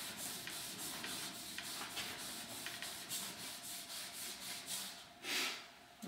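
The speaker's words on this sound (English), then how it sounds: "we'll take the back side of this felt cork and polish and generate heat" A felt cork rubs liquid wax into a ski base with steady, rhythmic back-and-forth strokes, producing a close, scratchy, even friction sound that stays alone throughout.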